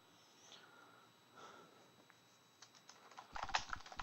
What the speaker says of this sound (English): Since I'm typing so much and mostly just reading when I'm typing